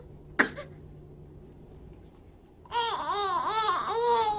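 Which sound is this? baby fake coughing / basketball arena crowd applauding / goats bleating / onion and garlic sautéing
baby fake coughing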